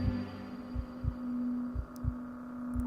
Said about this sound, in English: your heart pounding a panic, a regular rhythm in the base of your throat